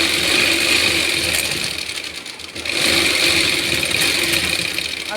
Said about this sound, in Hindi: पलटाने के बाद इसके ऊपर हम सिलाई लगाएंगे